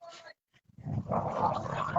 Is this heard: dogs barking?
yes